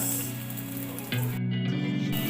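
Chopped onions fry with green chili masala in a pan under a dense, continuous sizzle, joined partway through by a faint electronic hum.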